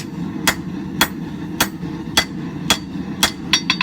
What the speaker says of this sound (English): take it to the edge of my anvil, start drawing it out to the length I want